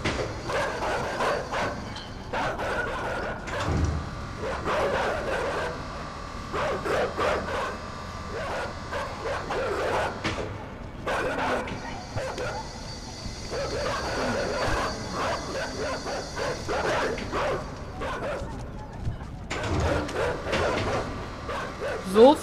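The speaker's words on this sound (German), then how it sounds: "Ach Hunde." Dogs bark in the video game Inside, with a few sharp yelps scattered over a busy, rumbling game soundscape while someone talks over most of it.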